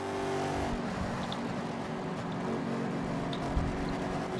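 Engine drone of a damaged stock car in a racing video game, a steady rough hum with faint higher whine, fairly quiet and constant with one small bump near the end.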